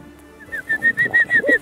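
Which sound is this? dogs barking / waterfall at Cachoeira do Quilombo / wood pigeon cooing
wood pigeon cooing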